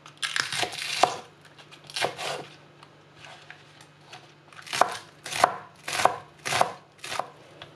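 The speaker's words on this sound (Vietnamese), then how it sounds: "Cắt hành để riêng và cắt cái này nên chẻ nha, không thôi nó to quá." A knife chops green onions on a cutting board in a home kitchen, a series of crisp, close bursts of cutting in uneven clusters with short pauses between them.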